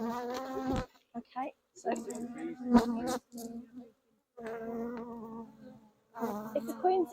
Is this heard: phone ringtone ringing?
no